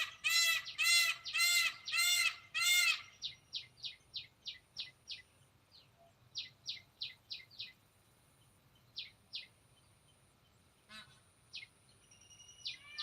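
Peacocks calling: a run of loud, repeated honking cries up close, then a series of fainter, shorter calls spaced irregularly over a quiet background.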